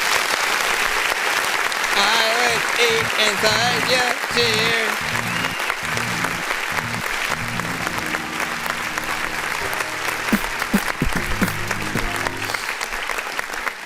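A soundboard button plays a canned applause effect during a live music review stream, a steady wash of crowd clapping that runs the whole stretch under a voice and background music.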